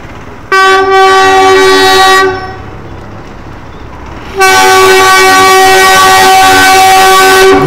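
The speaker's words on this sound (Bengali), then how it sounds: "টয় ট্রেন আসছে" The coal-powered Darjeeling toy train arriving at a station blows a loud, close, sustained horn twice, the first blast lasting about two seconds and the second longer, over a rumble of rail noise.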